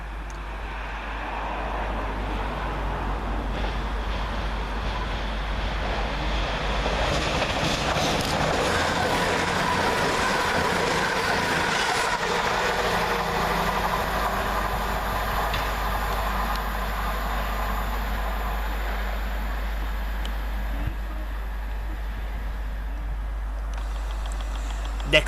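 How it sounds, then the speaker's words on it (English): A CrossCountry Class 220 diesel unit, 220031, passes fast through Barnt Green railway station, giving a sustained, loud roar of engine and wheels that holds for about twenty seconds and then eases slightly. "Flying fast through the station is 220031 for cross country, working 1 Victor 56 from Glasgow Central to Plymouth."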